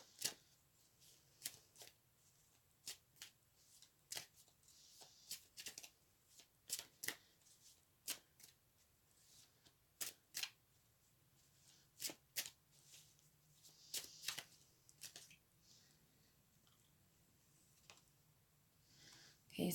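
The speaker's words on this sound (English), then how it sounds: "And then I'm going to pull some cards out of another deck." A deck of Witch's Tarot cards is shuffled over and over, with sharp riffling bursts repeating at an uneven pace for about twenty seconds against a quiet background.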